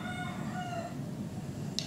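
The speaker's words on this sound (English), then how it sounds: "For me, I hear some roosters" A rooster crows at a distance in Bali, its drawn-out call thin against steady outdoor ambience and a low background rumble.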